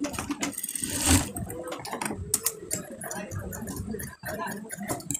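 Sewing machine stitching the collar band of a child's kabli panjabi, a busy mechanical whirr running steadily for several seconds beneath someone talking.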